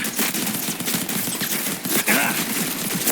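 Rapid, continuous video-game gunfire from a pistol crackles throughout, loud and dense like automatic weapon bursts, with a faint voice briefly underneath.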